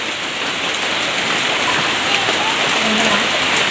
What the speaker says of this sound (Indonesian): alhamdulillah diguyur hujan seperti ini, lihat